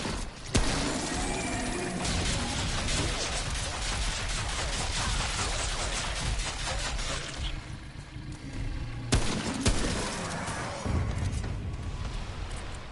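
Dense, continuous gunfire and crashing impacts from the video game Remnant: From the Ashes, loud bursts layered with booms throughout, with a brief lull before the shooting resumes.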